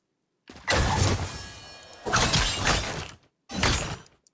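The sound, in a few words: video game ability sound effects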